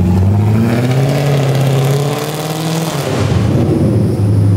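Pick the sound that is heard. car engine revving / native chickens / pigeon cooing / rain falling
car engine revving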